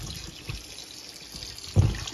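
Tap water runs and splashes while boiled mutton is rinsed in a home kitchen, a steady close-up stream with a louder gush near the end.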